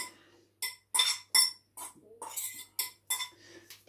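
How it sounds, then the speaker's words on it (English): Metal utensil scraping and clinking in a frying pan while cooking an omelette with egg, mushrooms and onions, in a run of sharp, uneven scrapes and knocks close to the microphone, with no voices. "Apologies for the scraping sound."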